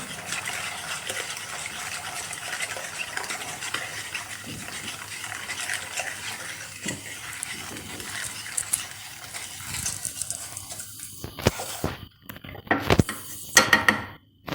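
Wire whisk beating batter for a two-tone biscuit cake, a steady scratchy metallic clatter against the bowl that grows louder and more clanking toward the end, with no voices.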